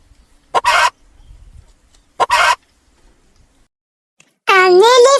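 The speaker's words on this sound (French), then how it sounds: "Une poule." A hen gives two short, harsh clucking squawks separated by a pause, fairly close and loud, followed by a brief spoken voice.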